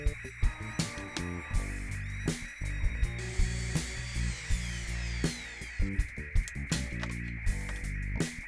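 Power saw cutting a wooden board for a countertop fireplace, a strident, loud whine with rhythmic bursts and tonal shifts as the blade bites through the wood.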